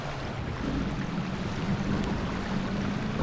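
Strong tsunami waves surge in the game GTA V as a dense, loud, continuous roar of rushing water and wind-like noise, with no talk.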